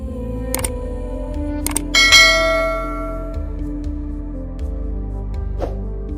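A bell chime plays as a notification sound, with several sharp struck dings ringing out over a low continuous hum, the brightest strike decaying slowly before fainter tones follow.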